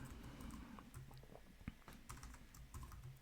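Quiet typing on a computer keyboard during a web design session, a steady patter of soft key clicks with one sharper tap, close and faint with no talking.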